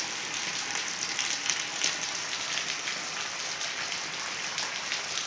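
Steady rain pours down outdoors in a constant, even wash of hiss that holds its level throughout, with no voices.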